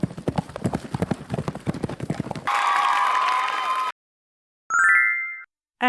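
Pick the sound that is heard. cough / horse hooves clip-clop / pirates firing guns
horse hooves clip-clop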